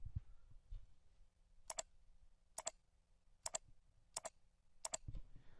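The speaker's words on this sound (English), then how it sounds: "hold down the Control key and then click the slots we want to include in our selection" Computer mouse clicks while a Control key is held to select slots in music software: five crisp double clicks at roughly even intervals, close and quiet, with no talking.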